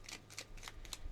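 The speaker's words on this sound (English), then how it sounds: "So let's pull out some more cards." Tarot cards being shuffled and drawn from the deck, a brief series of quick papery riffles and slides, close and fairly soft, with no talking.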